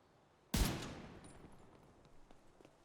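A single loud gunshot in The Division 2 fires at a Christmas tree star, a sharp close crack whose echo fades slowly over a couple of seconds into quiet background ambience.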